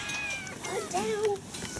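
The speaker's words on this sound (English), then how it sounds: "it's feeding time for the African wildcats" African wildcats meow at feeding time, a few short, fairly faint mews and one drawn-out wavering meow over background noise, while people talk nearby.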